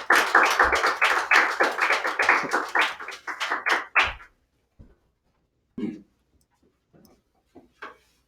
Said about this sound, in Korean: 우리 나올 때 박수로 이렇게 한번 환영할까요?